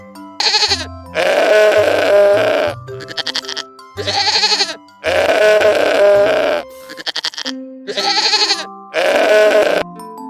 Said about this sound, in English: Goat says meh.